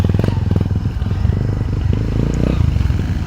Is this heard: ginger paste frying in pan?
no